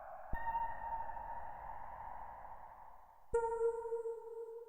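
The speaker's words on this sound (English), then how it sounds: "So reverb-wise, what you're hearing is just the Aurora." Eurorack modular synth tones sent through an Aurora reverb module, a sustained, washy pad that slowly swells and fades, then a sharp new attack at about three seconds with ringing, shimmering overtones and a long reverb tail.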